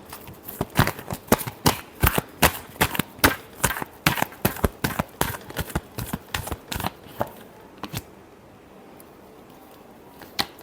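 Tarot cards are shuffled close up, with a quick, rhythmic series of crisp slaps and riffles that lasts about eight seconds before fading to a few faint taps.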